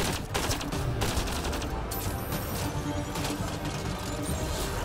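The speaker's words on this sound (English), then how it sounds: "Yep, that's a grenade I can hear." A grenade blast in the Mass Effect Andromeda video game, set in a loud, dense firefight with rapid overlapping gunfire and crashing impacts that roar continuously and close for about five seconds, with no voices.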